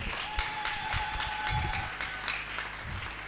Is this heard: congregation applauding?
yes